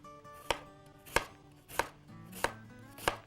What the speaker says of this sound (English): You're going to slice them as thin as you can get them.